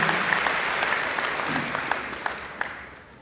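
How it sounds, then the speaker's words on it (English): Audience applause at a high school graduation ceremony, a dense steady wash of many hands clapping that holds strong and gradually fades toward the end. "can we give them another round of applause, please?"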